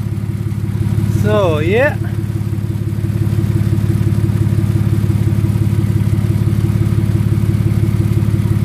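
A turbocharged BMW E39 engine idles close and steady with a low, even drone, after its AC repair. Someone speaks briefly over it near the start.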